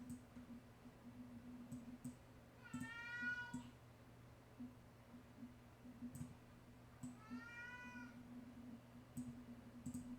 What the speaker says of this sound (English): And my cat's meowing.